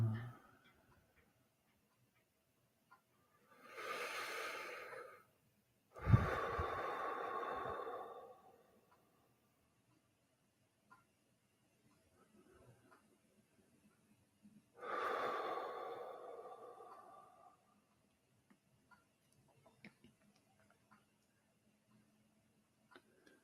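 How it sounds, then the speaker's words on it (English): Slow, deep breaths during a seated meditation, three soft airy inhales and exhales spaced several seconds apart, close and quiet, with long near-silent pauses between them. "Maybe taking a deep breath or two."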